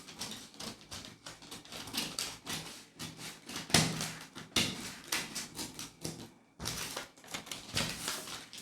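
Scissors cutting out fabric pattern pieces for a criss cross top, a dense run of sharp, close snipping and rustling strokes in an irregular rhythm with short pauses.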